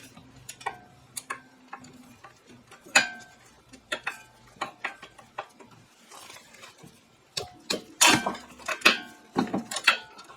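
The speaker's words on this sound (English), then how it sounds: "let me try a 1/2-inch drive ratchet with a reducer" A 1/2-inch drive ratchet with a reducer works on a rear brake bolt of an Audi A4, giving a series of sharp, close metallic clicks in short uneven runs, louder and faster toward the end.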